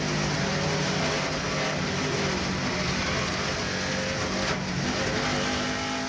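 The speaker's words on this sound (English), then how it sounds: "And from the roof camera of Elton Sawyer, listen for the contact." Race cars at a 2000 NBS Cheez-It 250 event, caught from a roof-mounted camera as cars make contact; a steady, loud engine roar fills the whole stretch with no distinct impact standing out.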